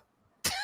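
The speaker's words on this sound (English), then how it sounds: "I literally was just coughing." A person coughs abruptly and close by with two quick rough bursts after a moment of near silence.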